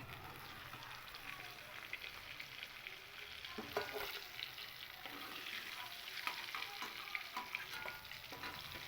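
Paneer pieces frying in hot oil in a pan, a dense steady sizzle and crackle with occasional spatula stirring sounds, close and even, without speech.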